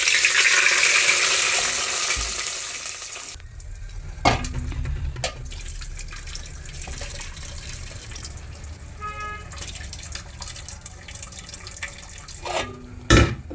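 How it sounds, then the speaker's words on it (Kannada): Water drained off cooked lentils for tomato rasam, a steady liquid pour and trickle with a few clinks of the pot, close by and without talk. "ಬೇಳೆಯನ್ನು ಬೇಯಿಸಿದೀವಲ್ಲ ಅದು ನೀರು ಬಸ್ಕೊಳ್ಳೋಣ ಸ್ವಲ್ಪ"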